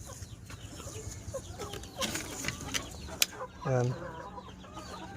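Native chickens cluck softly in a coop, with a louder squawk near the end over low background noise and a brief spoken word.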